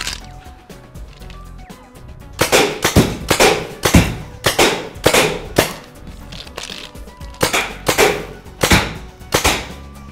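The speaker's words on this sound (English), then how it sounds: "the zirconium powder, which is a grey metallic powder that you can fill these empty paintball shells with" Paintball shells filled with grey zirconium powder burst as bullet-hit special effects, giving a series of about ten sharp, loud cracks in uneven clusters after a quieter opening.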